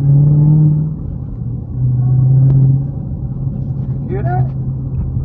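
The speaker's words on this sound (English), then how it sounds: "you hear that supercharger?" A 2023 Dodge Challenger Hellcat Redeye's supercharged engine drones low and heavy from inside the car, swelling twice in short revving surges while a voice talks over it.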